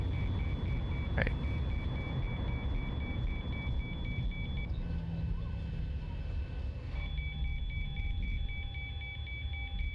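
Cockpit warning beeps in the X-Plane 11 flight simulator, an A319 or 737 rolling at about 80 knots, sound as a steady repeating electronic tone over a low engine and road-like rumble, pausing briefly midway before resuming.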